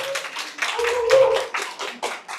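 Audience applause at a Ukrainian success-day awards event, brisk clapping under a loud announcer's voice.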